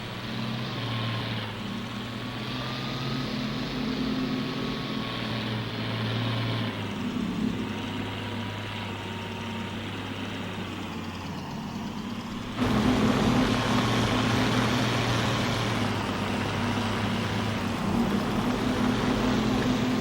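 Large red tractor engine in the Farming Simulator 22 video game, a steady low droning hum that shifts pitch and jumps louder partway through, continuous throughout.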